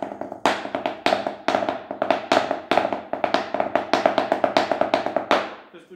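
A snare drum, a tarola, plays a rapid roll of sharp, bright strokes in quick accented bursts, close and loud, ending abruptly.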